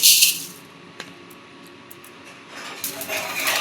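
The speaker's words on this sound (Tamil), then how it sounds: "இது பாருங்கள் வெந்தயம் பொரிக்குது." Fenugreek seeds roasting in a dry pan give off faint, scattered crackles and light rattling, with a few brief sharp pops over a soft hiss, close by.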